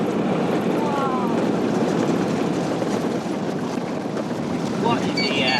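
Aircraft engines drone steadily overhead above open desert sand dunes, a broad continuous roar that swells slightly near the end, with wind buffeting the microphone and people talking.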